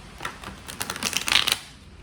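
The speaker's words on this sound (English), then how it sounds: "Alright, let's shuffle this again." A quick riffle of cards being shuffled, a brief flurry of soft rapid clicks and flutters, close by with no talking.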